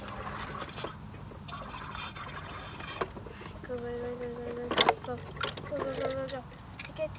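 A home sparkling water maker carbonates a bottle of water with short bursts of gurgling, bubbling fizz, mixed in with handling clatter and children talking nearby.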